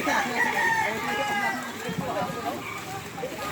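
A rooster crows loudly near the start, with clucking fowl nearby and people talking over the farmyard noise.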